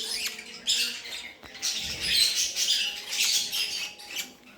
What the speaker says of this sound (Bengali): এখানে কিন্তু আমার আরও অনেক পাখি আছে।